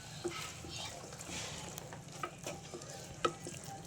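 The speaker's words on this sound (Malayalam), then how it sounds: "ഇനി എല്ലാം കൂടി അങ്ങ് നന്നായി മിക്സ് ചെയ്യും." Masala for prawn biryani fries and is stirred in a pan, a soft steady sizzle with occasional utensil scrapes and clinks, fairly quiet and close.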